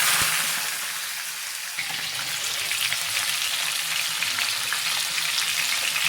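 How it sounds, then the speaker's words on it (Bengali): Potatoes sizzle as they hit hot oil in a home kitchen pan: a brief splash, then a loud, continuous crackling fry that holds steady, close up and with no talking. "তেলটা গরম হয়ে গেছে, আমি আলুগুলো দিয়ে নেব।"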